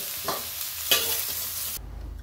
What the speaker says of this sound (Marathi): आता वांगे आहे बघा छान परतलेत,